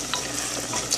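Meat for okra soup cooks in a pot, giving a soft, continuous close-up sizzle and bubble with a few faint clinks, with no one speaking.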